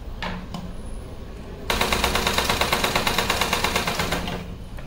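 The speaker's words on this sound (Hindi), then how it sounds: "अब इसे फोल्ड करके इस पर सिलाई लगा लेंगे" A sewing machine stitches a thin folded fabric strip for a small Laddu Gopal outfit, starting after a brief pause into a fast, steady rattling run of evenly spaced needle strokes, close and fairly loud.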